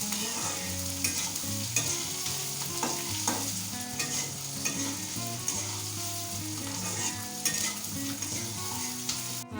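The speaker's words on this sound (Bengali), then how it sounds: "আলুটা আমি ব্রাউন কালার করে ভেজে নেব।" Potatoes frying in a pan with browned onion, a continuous crackling sizzle with repeated scrapes and clinks of a spatula stirring, close and steady, no voices.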